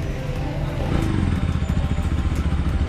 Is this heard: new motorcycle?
yes